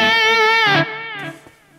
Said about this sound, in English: you get a really great crunchy lead tone